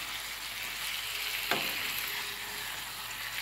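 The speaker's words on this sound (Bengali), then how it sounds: "একদম সমস্ত সবজিগুলোকে জিরে ফোড়ন দিয়ে দিয়েছি তেলের মধ্যে" Mixed vegetables, including ridge gourd, tomato, potato and onion, frying in oil with a cumin tempering; an even, close sizzling hiss with one brief scrape of stirring midway, no voices.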